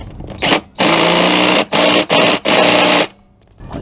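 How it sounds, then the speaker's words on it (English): A ratchet tightens a seat bolt while Honda S2000 seats are fitted into an MR2 Spyder, giving several loud, rapid bursts of clicking separated by short pauses. "Might just give that a bit more of a crank with the old ratchet"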